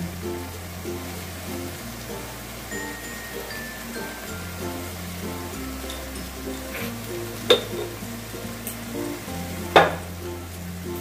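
Spices for prawn kalia fry and get stirred in a pan over low heat, making a gentle, continuous sizzle. A couple of sharp scraping clicks cut through near the end, with no talk.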